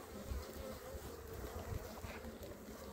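Honeybees buzz around a hive frame loaded with pollen, nectar and honey near the brood, a steady close insect drone with a low rumble and no talk.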